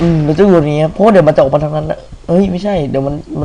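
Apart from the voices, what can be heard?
No distinct noise like a dog, phone or traffic.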